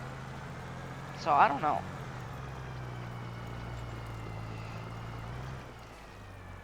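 In Farming Simulator 25, a tractor engine runs in a lower gear at higher RPM, holding a steady, droning hum that sits under a brief spoken remark and then fades slightly near the end.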